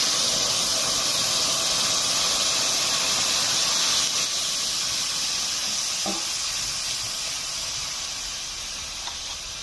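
Fish curry broth for a village-style dhela fish and cauliflower curry poured into a hot pan, giving a steady broad sizzle and steam hiss that fades slightly toward the end, with no voices.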